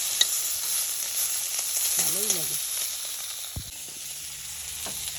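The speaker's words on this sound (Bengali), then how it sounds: "আমার মাছগুলো ভাজা হয়ে গেছে দেখেন লাল লাল করে ভাজা হয়ে গেছে" Koi fish (climbing perch) fry in oil with a steady, fairly soft sizzle and occasional stirring knocks. A voice speaks briefly partway through.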